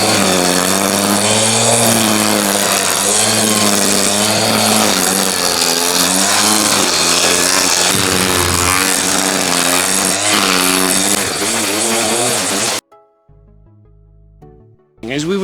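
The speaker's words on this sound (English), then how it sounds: "As we were trimming around this edge here, we were going clockwise because the trimmer is also moving clockwise" A Bosch UniversalGrassCut 18-26 cordless grass trimmer cuts grass in a small garden with a loud, steady whine that runs near and continuous for about 13 seconds, then cuts off abruptly, leaving brief quiet before a short burst restarts.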